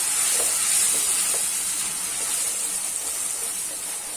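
Chopped tomato sizzles and fries steadily in a pan, with a dense hiss and occasional soft stirring clicks, close and moderately loud throughout with no voices.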